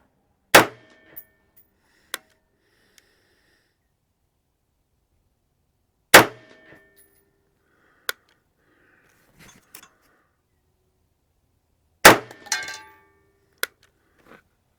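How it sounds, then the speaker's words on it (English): Rifle firing Winchester 55 grain M193 ammunition at a steel target: three sharp, loud shots spaced about six seconds apart, each followed by a clear metallic ring from the hit steel, with faint clanks between. "I'll be shooting the Winchester 55 grain M193s."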